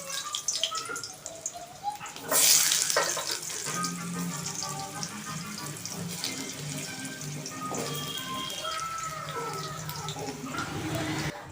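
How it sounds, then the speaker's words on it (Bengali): Potatoes frying in hot oil in a kadai: a sudden loud sizzle bursts up as they go in, then settles into a steady, close bubbling hiss with occasional clinks, and no talking. "এইবার আলুগুলোকে আমি ভালো করে ভেজে নেব"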